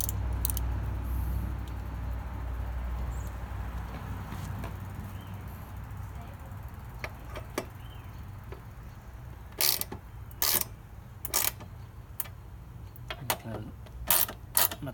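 Bolts on a Super Cub 125 leg shield are tightened with a ratchet, giving a run of close, sharp clicking bursts over a low steady hum, with faint talk at times.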